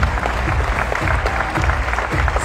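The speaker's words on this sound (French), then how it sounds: "vous pouvez les applaudir bien fort" A crowd at the Miss Normandie 2020 pageant applauds dancers with steady, vigorous clapping that fills the room from start to finish.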